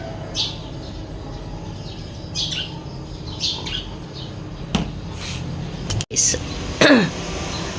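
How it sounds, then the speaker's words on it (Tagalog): Birds chirp and squawk near an aratilis tree beside a house roof, giving short scattered calls at varying distances over a low ambient hum. A person talks and clears their throat in between. "So damo kaayong langgam."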